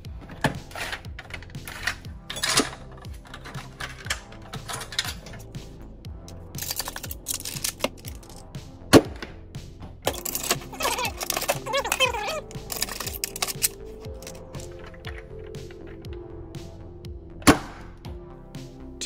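A spring-powered Nerf matchlock musket blaster fires Rival foam balls, giving a few sharp, loud shots spread among clicks and mechanical handling noises, with a person talking intermittently.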